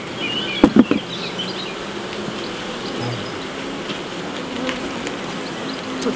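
A dense swarm of honey bees drones continuously around hive frames during oilseed rape honey extraction, with a couple of brief knocks near the start.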